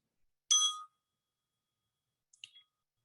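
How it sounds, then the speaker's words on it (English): A meditation bell struck once, a bright clear ring that fades within a second, followed by a softer second chime about two seconds later, otherwise near silence. "if you can hear the bell when I ring it"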